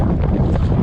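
Strong wind buffets the microphone out on open tidal flats, a dense, continuous rushing roar with no voices.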